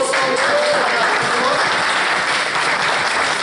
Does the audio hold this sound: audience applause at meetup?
yes